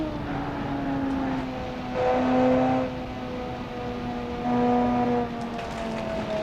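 A V12 car engine in BeamNG hums with a steady, tonal drone, swelling louder twice as the revs rise briefly, with no talking over it.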